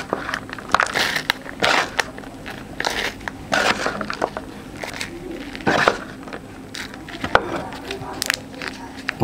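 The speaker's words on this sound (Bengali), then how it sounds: "এই মাটিগুলো আমি কিভাবে পাত্রতে বুড়িয়ে দিচ্ছি আপনারা দেখবেন।" Dry, crumbled soil is pressed firmly into a flower pot by hand for planting a henna cutting. Close, irregular crunching and gritty rustling comes in short bursts with brief gaps.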